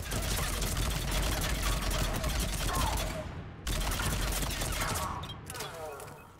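Dense gunfire in the Mass Effect 3 video game on Omega, rapid overlapping shots in a continuous loud barrage with a brief break midway before the firing resumes, a voice speaking underneath.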